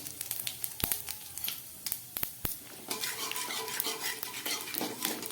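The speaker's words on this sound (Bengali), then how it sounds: "মশলাটা আমার ভাজা হয়ে এসছে" Whole spices with bay leaf, dried red chilli, crushed garam masala and cumin seeds fry in oil, stirred with a utensil scraping the pan in sharp knocks before a dense sizzle takes over, close and alone.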